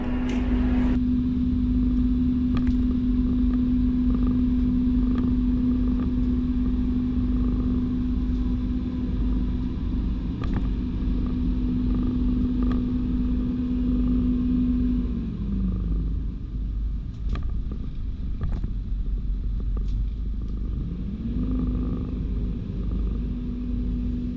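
The engine of a Sealine S34 motorboat manoeuvring out of a marina berth, a steady close rumble with a constant tone that dips and returns as the throttle changes, with no talk.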